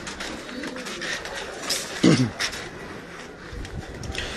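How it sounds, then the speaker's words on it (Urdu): Pigeons coo on a rooftop where color-marked birds are kept for flying, their soft repeated calls close by, with a brief louder burst midway and some faint talk in the background. "یہ جن کبوتروں کو ہم نے رنگ لگائے ہیں یہ کبوتر سارے اڑانے کے لیے ہیں"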